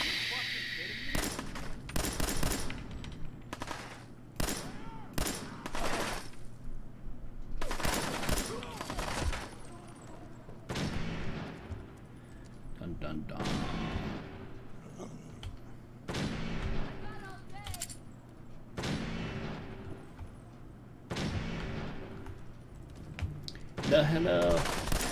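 Pistol gunfire in Fallout 4: a series of sharp, loud shots spaced irregularly, some in quick bursts, over a steady low game ambience with a voice talking between them.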